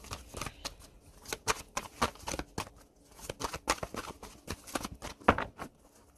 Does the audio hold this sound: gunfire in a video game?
no